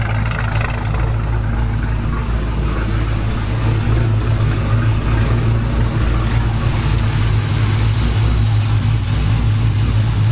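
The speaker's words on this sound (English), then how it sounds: "we have a running Hemi" A Dodge Challenger with a Hemi V8 runs steadily at idle, a loud, deep engine rumble with a constant low throb close by and no talk.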